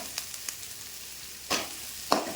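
Drumsticks and onions sautéing in a pan for a raw mango curry, a quiet sizzle broken by a few light taps and two louder stirring scrapes near the end.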